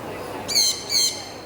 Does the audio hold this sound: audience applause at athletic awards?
no